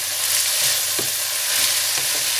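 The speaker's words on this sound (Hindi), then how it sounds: "यहाँ मैं हल्का सा ब्राउन करूँगी प्याज को" Onion fries and browns in a pan for egg bhurji, giving a loud, steady, close sizzle with a couple of faint stirring scrapes.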